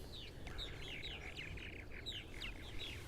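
Purple martins chirp and warble steadily on Eastern Long Island, a busy overlapping chatter of bright calls at moderate distance over a constant breezy outdoor background.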